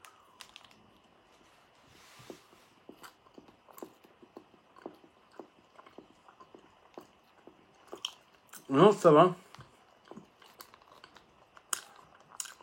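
Someone eats a Snickers protein bar: soft, sticky chewing and small crunches repeat steadily at close range, with a brief louder burst of crunching partway through and a few words of French speech.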